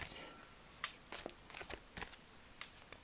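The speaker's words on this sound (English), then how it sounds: "shuffle a few more times" Tarot cards being shuffled by hand produce a run of crisp, riffling flutters and soft slaps, fairly close and continuous, with quiet talk mixed in.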